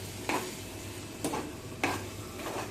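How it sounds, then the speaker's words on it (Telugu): A spoon stirs a village-style ridge gourd curry in a pan, giving three or four distinct scraping strokes at an uneven pace over a faint steady sizzle, with no talking. "కర్రీని అయితే ఒకసారి చెక్ చేస్తే మంచిగా కలుపుకుందాం."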